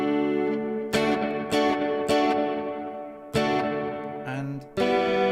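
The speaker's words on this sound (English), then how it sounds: "I'm gonna turn the reverb up quite high to about 45-ish." Clean electric guitar patch through a Boss ME-80 multi-effects pedal with reverb set high, a series of strummed chords, each ringing out in a long wash that blends into the next, played alone.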